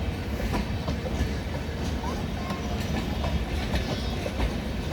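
The Anga Express Yesvantpur–Bhagalpur superfast train rolls past in India with a steady, loud rumble and rhythmic clickety-clack of wheels on rail joints, continuous throughout.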